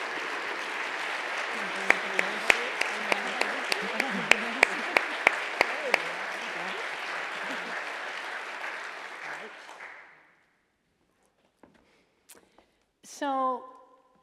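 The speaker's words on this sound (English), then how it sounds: "Please join me in a round of applause to celebrate Liz as our 2024 Systems Changemaker." An audience at the Evans School 2024 Public Leadership Awards applauds steadily for about ten seconds, dense clapping that stops abruptly, followed by a few faint sounds and a brief voice.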